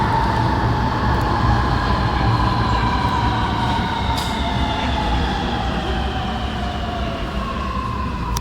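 A Sydney Metro train pulls into Gadigal station with a steady rumble and a drawn-out electric whine that slowly falls in pitch, and a few sharp clicks along the way.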